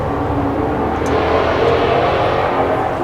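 Steady road traffic rushes past outdoors near a workspace where a sawmill head is being assembled, a continuous loud broadband roar of passing cars with no pauses and no voices.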